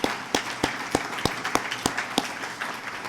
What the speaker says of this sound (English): give them a round of applause for helping do this event